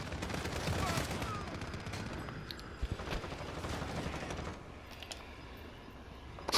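Gunfire from Call of Duty gameplay comes as dense, continuous bursts of shots with sharp cracks, loud and close, with a voice heard over the shooting.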